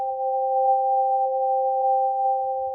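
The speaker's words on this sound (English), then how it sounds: "So you can hear immediately that we get that sort of classic glassy sort of FM sound" A glassy FM synth voice from an RYK Vector Wave module holds one steady, pure sustained tone, loud and unchanging for nearly three seconds.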